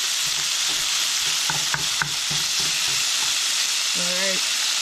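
Bacon sizzling steadily in a pan with loud, close hiss, broken by several scraping stirs and pushes of a utensil, a couple of sharp clicks, and a faint tonal squeak near the end.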